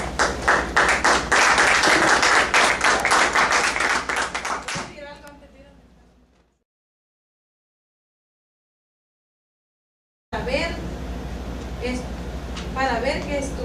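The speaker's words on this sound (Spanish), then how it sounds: "ahí un aplauso" Clapping from a live audience at a Spanish-language talk on Bible lands, loud and dense for several seconds, then fading out into silence before a room voice resumes.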